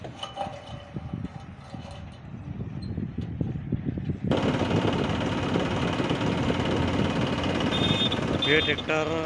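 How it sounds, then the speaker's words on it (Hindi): A Massey Ferguson 7250 50 HP tractor engine runs steadily, first a softer rumble, then louder and fuller after a sudden jump in level, with some metallic clinks near the end. "ये ट्रैक्टर है 7250 50 एचपी का"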